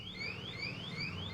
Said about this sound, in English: The alarm's going off because there's no key in it.